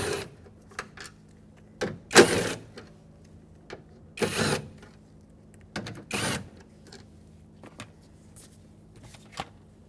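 A tool removes the 5.5mm screws holding the door speaker on a 2000-2005 Ford Excursion, giving a few scattered bursts of whirring and clicking, close by, with quiet gaps between them.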